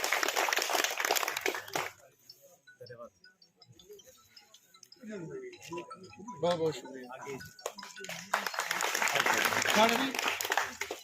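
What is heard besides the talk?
audience applause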